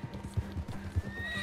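A horse in Red Dead Redemption 2 lets out a whinny over steady clip-clopping hooves, close and fairly loud.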